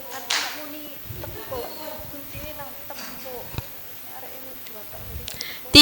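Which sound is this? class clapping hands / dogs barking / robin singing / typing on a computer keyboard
class clapping hands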